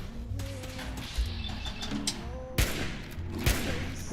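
Grenades exploding in a video game firefight: two sharp, punchy blasts near the end stand out over a lower bed of mechanical game noise and faint tonal effects.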